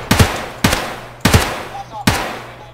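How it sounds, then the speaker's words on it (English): RPK light machine gun fired in the video game Escape from Tarkov: four loud, evenly spaced bursts of two quick shots each, with faint talk underneath. "I'm going to pop some shots."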